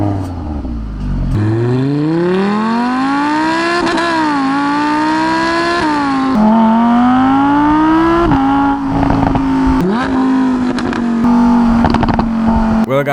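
Audi R8 and Lamborghini Huracán V10 engines with sport exhaust revving and accelerating through repeated gear changes, loud and close, each pull rising in pitch before dropping at the shift.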